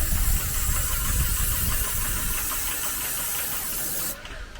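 A steady, loud spraying hiss of paint being sprayed close by, over a low mechanical hum, cutting off abruptly near the end.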